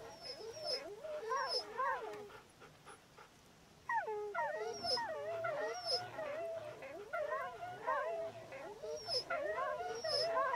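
Dogs in a kennel in the game Wasteland 2 whimper, yip and howl in overlapping, wavering cries, quieter at first and then louder and busier, with a few faint voices underneath.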